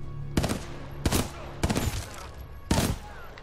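Weapon fire in the shooter Titanfall 2 rings out in four loud, close bursts, each a quick rattle of shots separated by short pauses.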